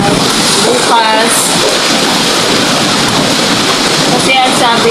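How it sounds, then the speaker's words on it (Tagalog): Heavy rain pours down steadily during Typhoon Uwan in Bicol, a dense, loud broadband wash that holds without pause, with faint voices briefly audible beneath the downpour. "Grabe ang ulan."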